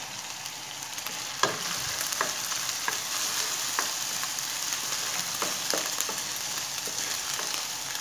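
Whole dried red chillies sizzle steadily in hot oil in a pan of chicken chilli, a continuous close frying hiss with occasional sharp pops and crackles.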